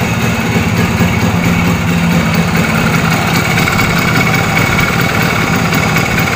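A Simson S51 moped fitted with a 50cc kit runs steadily near the listener, its small two-stroke engine giving a loud, even idle-like buzz that continues unbroken with no talking.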